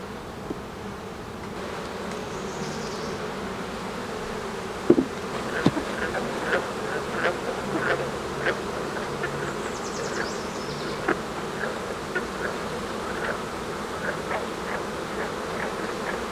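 Honey bees swarming around an open hive during an inspection of frames holding nectar, honey and pollen, a dense continuous buzz close by, with scattered wooden knocks and clicks from handling the hive and no talking.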